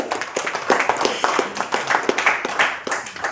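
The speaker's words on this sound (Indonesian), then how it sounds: "Kita kasih tepuk tangan." Audience clapping at an Indonesian book launch event, a dense run of hand claps of moderate loudness that carries on steadily with no talk over it.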